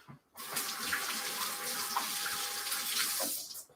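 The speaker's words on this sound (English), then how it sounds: "Wash my hands." Tap water runs steadily into a kitchen sink while hands are washed beneath it, a continuous close splashing hiss that starts abruptly and stops at the end, with no voices.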